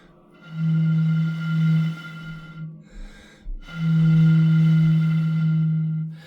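Breathy, hollow hoot made by blowing across a bottle partly filled with water, producing a ghost-like call; two long sustained low tones separated by a brief pause with faint breath noise, close and loud.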